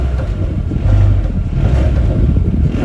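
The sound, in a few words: Mercedes GLA 250 engine sound at low RPM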